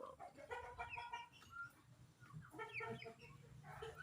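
Several chickens cluck and chatter close by, busy overlapping calls with a few louder squawks, fairly quiet overall.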